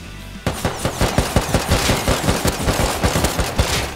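Rapid automatic gunfire in the survival video game Rust, a loud sustained burst of closely spaced shots hammering in a steady rhythm after a brief quiet start, with no talk over it.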